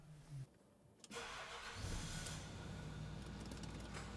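A car engine cranks and catches after a brief quiet stretch, then settles into a steady rumbling idle, heard close and continuing to the end with no talking.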